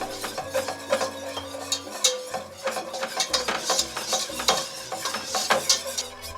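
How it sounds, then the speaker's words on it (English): Butter and flour for a béchamel are stirred over medium heat in a pan, a steady run of scraping and clinking utensil strokes against the metal with a faint sizzle underneath, close and continuous with no voices. "When it melts, add the flour. Stir for 3 minutes."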